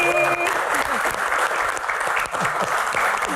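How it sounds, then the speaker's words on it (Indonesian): Loud, sustained applause from a student audience and panel at a comedy Q&A, continuous clapping from start to end with a brief tone and crowd noise at the opening. "Tepuk tangan untuk panelis dan juga rekan-rekan mahasiswa sekali lagi."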